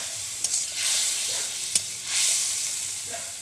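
Spice masala sautés in a pan with a little water added, giving a steady close sizzle with stirring scrapes and a couple of sharp clicks, no voices.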